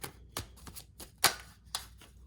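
A deck of oracle and tarot cards being shuffled, heard as about six sharp papery riffle snaps spaced irregularly over a couple of seconds, close but fairly quiet against a near-silent background.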